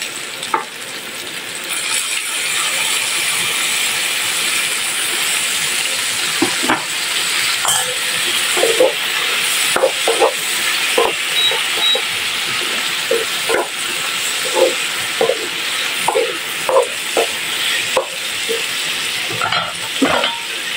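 Bitter melon (ampalaya) and pork belly stir-frying with soy sauce in a hot pan, a loud continuous sizzle and hiss broken by frequent clacks and scrapes of a spatula tossing the food.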